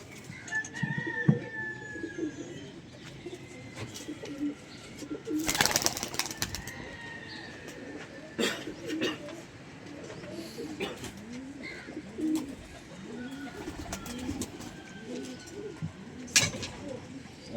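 Pigeons cooing softly in repeated low calls, with occasional wing flaps and rustling nearby.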